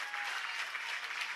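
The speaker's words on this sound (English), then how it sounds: "Zach Perez coming back on the ground for Andrew Noonan, the 17-year-old who gets a rousing reception from the crowd" Crowd at a 2004 senior football grand final applauding a 17-year-old player coming back onto the ground, a dense, steady wash of clapping with no breaks.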